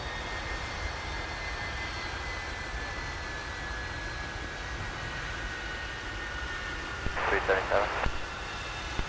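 A jet airliner departs Minneapolis–St. Paul airport in freezing winter weather, heard as a steady, distant broadband roar that holds for the whole stretch, with a brief cluster of chirpy sounds near the end.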